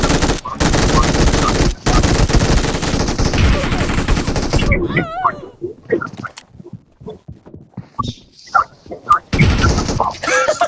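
Dense automatic gunfire in the mobile battle game Free Fire, loud bursts with brief breaks, then sporadic single shots and game effects under players talking.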